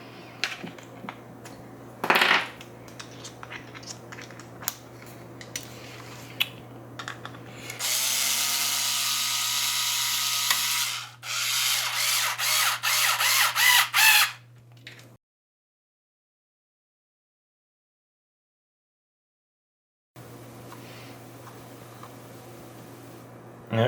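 Small plastic adapter lid being screwed down by hand, with clicking, ratcheting turns and a dense burst of mechanical whirring and rattling before a few seconds of silence, then a faint steady hum.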